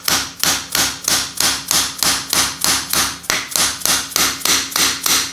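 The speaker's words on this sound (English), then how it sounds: "Basically slides over there and you hit it with the hammer again. Just tap that on until it stops." A hammer taps a crown race setter down onto a bicycle fork, about fourteen close, loud, evenly spaced metallic strikes in a steady rhythm, with no talking.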